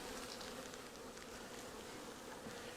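Honeybees buzz on a hive frame during a hive inspection, a continuous close, low droning hum with no talking over it.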